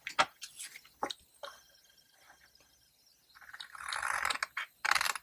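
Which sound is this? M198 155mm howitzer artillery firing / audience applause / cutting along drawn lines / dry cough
cutting along drawn lines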